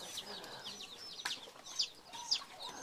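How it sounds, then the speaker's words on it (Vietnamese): Chickens cluck and chirp in short bursts, a few sharp calls standing out against a soft background of farmyard noise. "Con gà này nó ăn con run."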